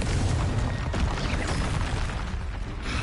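Confringo blasting spell explosion in the video game Hogwarts Legacy: a dense, continuous roaring blast with crackling debris, loud and close, filling the whole moment without a break.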